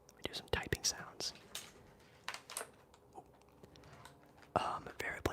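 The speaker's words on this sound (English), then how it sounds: "We do some typing sounds." Quiet ASMR keyboard typing during a live relaxing hangout, with scattered soft clicks and taps in irregular bursts, close and gentle, under occasional whispered talk.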